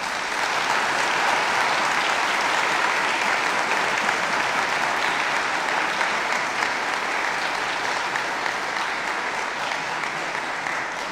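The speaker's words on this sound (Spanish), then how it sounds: "¿qué le parece si le damos un lindo aplauso a la Iglesia?" A church congregation at a Pentecost Mass applauds steadily, a dense, loud, sustained wash of clapping from many hands that holds even from start to finish without pause.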